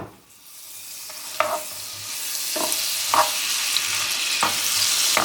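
Peppers fry in butter in a pan, a steady crackling sizzle that builds in intensity, punctuated by several sharp clicks and bursts of spattering at roughly one-second intervals, close up with no talk.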